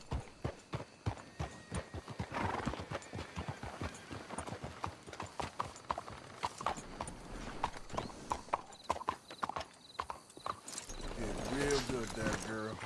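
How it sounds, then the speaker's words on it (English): Horses walk in the Western game Red Dead Redemption 2, hooves clip-clopping in a steady close rhythm, with a whinny, creaking tack and people talking over it. "Let's hitch the horses up ahead."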